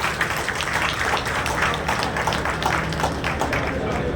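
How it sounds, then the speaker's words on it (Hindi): A crowd at a Hindi-language community awards ceremony claps continuously in a dense, steady wash of applause that lasts the whole stretch. "एक बार जोरदार तालियां"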